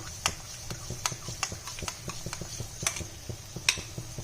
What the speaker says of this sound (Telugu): ఫ్రెష్ పెరుగు వేసి మంచిగా కలుపుకోవాలి